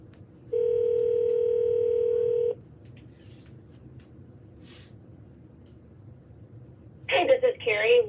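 A telephone dial tone sounds as a steady electronic tone for about two seconds, followed by faint clicks and near silence, with a brief voice near the end.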